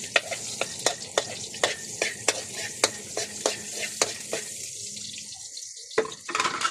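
Onion and garlic fry in a pan, a sharp sizzle punctuated by regular spatula taps and scrapes about every half second, ending in a brief pause and a final flurry of stirring.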